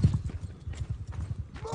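Horse hooves clip-clop in a rapid, uneven rhythm in the video game Mount and Blade 2: Bannerlord, close and fairly loud, with a brief whinny-like tone at the end.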